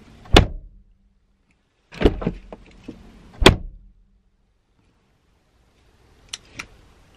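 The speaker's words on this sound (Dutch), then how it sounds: "het geluid van het dichtklappen van de deuren" Doors of a new Nissan Micra being shut, three solid thuds about a second and a half apart, one with a short rattle after it, followed by two faint clicks; close, with quiet between.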